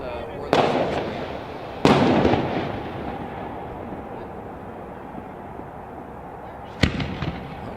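Fireworks at a graduation show burst in sharp, loud booms, two close together early and another near the end, each trailing off over a steady crowd murmur and background noise.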